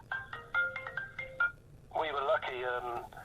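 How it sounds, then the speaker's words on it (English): A telephone rings with a short repeating electronic melody of clipped tones, then a richer, wavering ringtone phrase follows, moderately loud and close over a faint low hum. "Oh, blimey, the phone's ringing"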